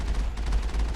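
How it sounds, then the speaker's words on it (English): Rapid cannon fire at a Geth dropship in the Mass Effect video game, a dense, continuous barrage of booming shots with heavy low rumble and no talking. "doing bug bites, cannon shots in this Geth dropship"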